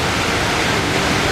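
Broadband rush of the indoor waterfall at Jewel, Changi Airport, heard at night as a loud, continuous roar of falling water with no pauses or voices.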